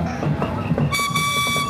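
A train at a Christmas parade sounds a steady, bright whistle or horn tone partway through, over a busy outdoor crowd and low rumbling clatter.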